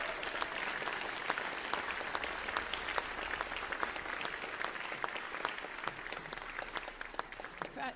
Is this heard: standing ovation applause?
yes